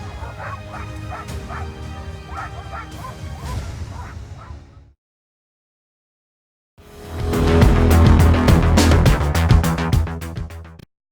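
Dogs bark, yip and whimper in a TV documentary promo about canines, loud layered barking with swooshing effects and music, then a sudden drop to silence before a second burst of intense barking and crashing sound.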